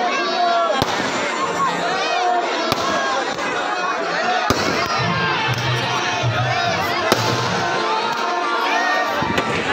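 Dussehra effigies burning amid firecrackers at a crowded Haryana celebration, sharp cracks bursting every couple of seconds over loud, continuous shouting and cheering from a large crowd, with children's voices prominent.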